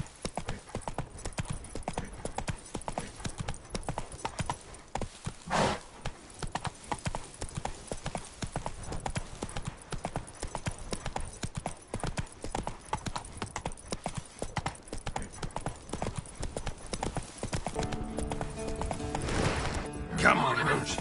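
A horse named Roach runs with quick, steady clip-clopping hooves, close and continuous, with a brief whinny and some speech near the end.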